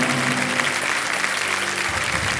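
A large studio audience on a television quiz show claps continuously in a dense, steady wash of applause that holds at an even level throughout.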